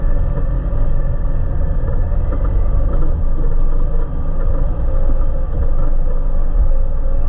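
A 2020 Jeep Wrangler Rubicon with the 2.0 engine labours off-road up a climb, giving a steady, loud, close engine drone with rumbling from the drivetrain and terrain throughout, and no talk.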